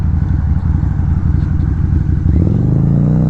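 A 2009 Harley-Davidson V-Rod motorcycle rides through a corner, its engine a loud, close, continuous throb that deepens briefly near the end, heard alone without talk.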